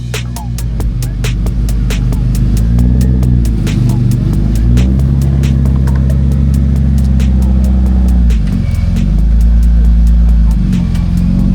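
Loud, droning in-car engine throb from a car driving on a race track, with a steady low hum, shifting engine tones as it speeds up and slows, and rapid rhythmic clicks over the top.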